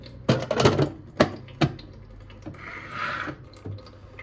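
Water is poured into a Brita Flow XXL 8.2-liter filter dispenser, giving several sharp splashes and drips in quick bursts, then a softer rushing pour near the end. No one speaks.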